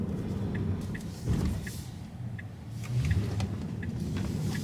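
An electric car drives through city streets in the rain, with a steady road and tire rumble, soft motor whine and faint periodic ticking, no voices.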